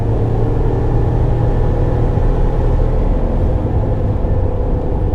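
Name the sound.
Chevy Black Widow truck accelerating on the road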